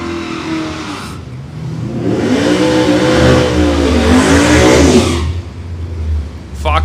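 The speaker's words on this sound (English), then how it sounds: "Fox body left lane, the wheelie Camaro in the right lane" Drag racing cars, a Fox body Mustang in the left lane and a wheelie Camaro in the right, rev and accelerate loudly at a dragstrip, engine roar swelling and sweeping before fading, with faint voices around.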